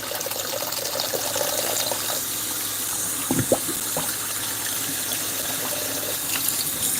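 Tap water runs steadily into a sink while a Cornish hen is rinsed for dinner, a continuous gushing wash with a few brief splashes partway through.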